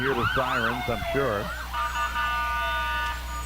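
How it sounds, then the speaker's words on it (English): Sirens on Park River Fire and Rescue Department trucks wail and sweep up and down as the trucks pass in a Fourth of July parade, loud at first and then a lingering steady tone. "You can hear the sirens, I'm sure"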